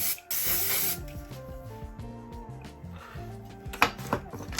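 A short hiss of an aerosol spray at the start, followed by quiet music with a few faint clicks and another brief spray burst.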